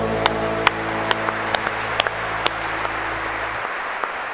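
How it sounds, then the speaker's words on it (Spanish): Church congregation applauding during a sermon, a spread of clapping over a held keyboard chord with bright, evenly spaced ringing pings that carry on after the chord stops. "Dale el aplauso al Señor."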